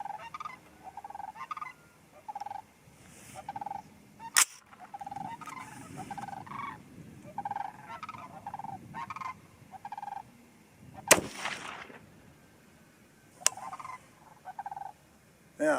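A 6mm ARC rifle loaded with Hornady 80 grain ELD-VT ammunition fires three sharp, sudden shots at uneven intervals. They stand out over a quiet outdoor background of bird and frog-like calls.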